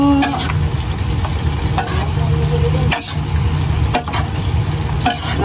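Food is stirred in a frying pan over a constant loud sizzle, with a spatula scraping and tapping the pan in sharp strokes about once a second.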